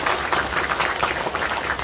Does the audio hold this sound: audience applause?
yes